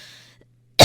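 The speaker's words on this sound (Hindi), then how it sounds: "बहुत खांसी आ रही है" A single sharp cough bursts out at the end, loud and close, after a faint stretch of background hiss and a low steady hum, from a woman with a cold in a home setting.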